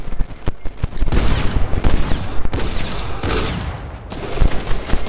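Fortnite gunfire crackles in loud, rapid bursts of overlapping shots, with several sharp separate reports and short gaps between volleys, close and dominant throughout.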